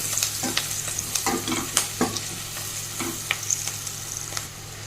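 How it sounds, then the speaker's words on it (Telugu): Turmeric being stirred into food frying in a pan for a breakfast upma dish, with a steady sizzle and irregular scraping taps of the spoon, close and fairly loud, no voices. "పసుపు వేసి ఇలా మిక్స్ చేద్దాం ఒకసారి"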